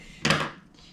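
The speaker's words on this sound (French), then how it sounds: "Désolée pour le bruit des ciseaux." Scissors clattering while crocheting a hat, a single brief close clack and scrape with nothing else around it.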